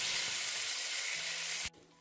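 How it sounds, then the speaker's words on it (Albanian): Chicken fillets fry in a pan with a dense, close, steady sizzle that holds for about two seconds and then cuts off abruptly near the end. "i fërgojmë edhe pjesët e mbetura të filetave të pulës."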